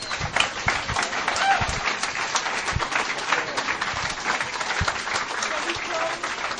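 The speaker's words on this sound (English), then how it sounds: "I want you to give yourselves one big round of applause," Audience applause at a 12-step Alcoholics Anonymous speaker meeting, a crowd clapping in a dense continuous patter with a few sharper nearby claps, fairly steady throughout.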